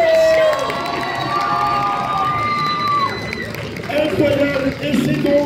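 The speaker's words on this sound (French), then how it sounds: "Est-ce qu'on peut l'applaudir encore une fois" A crowd at a cosplay contest cheers and shouts with excited whoops and high voices, a lively mass of noise that swells again near the end.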